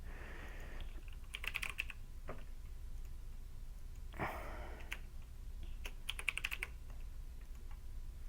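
Clusters of computer keyboard typing during an online Dominion card game match, coming in short bursts of rapid clicks separated by pauses, fairly quiet against a low steady background hum.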